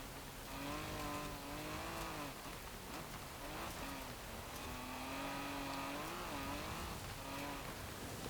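A 1959 Jaguar Mk II fitted with a turbocharged inline-6 in Forza Horizon 4 drones steadily off-road, its engine note rising and falling through gear changes under a rain-like hiss.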